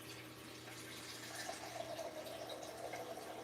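Water is poured into a pot of bacon, broccoli and potato soup, a steady rushing splash at low volume holding evenly for a few seconds.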